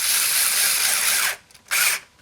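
A power drill driving long screws into a bed frame, with a loud, high, whirring run of about a second, a short pause, then a second brief burst.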